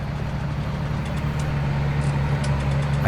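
A Case tractor with a front loader idling and running steadily in Farming Simulator 19, a constant low engine drone with no breaks.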